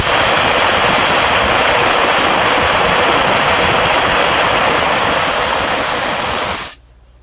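Water gushing hard from a newly drilled 600-foot borewell in a village, a loud steady roar of rushing water that holds constant and then cuts off abruptly near the end.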